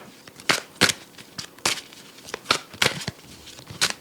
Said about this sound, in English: Sorry, these cards aren't shuffling well.